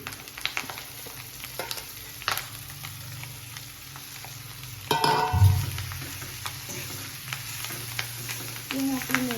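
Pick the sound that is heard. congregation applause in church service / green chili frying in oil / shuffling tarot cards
green chili frying in oil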